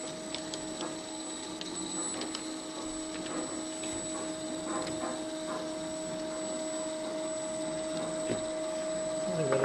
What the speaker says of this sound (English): So I'm going to energize the 3-axle motor block here